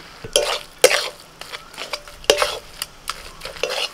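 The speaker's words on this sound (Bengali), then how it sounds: "মশলার সাথে এবার মটনটাকে আমি ভালো করে কষিয়ে নেব।" Mutton filling with spices and mashed boiled potato stir-fried in a pan, with a soft sizzle broken by several distinct spatula scrapes and clacks against the metal, close and fairly loud.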